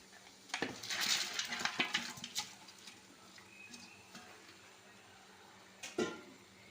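Cooked mutton is spooned into a pot of mutton biryani: a quiet run of metal scrapes and clinks against the pot, followed by stillness and one last soft clatter.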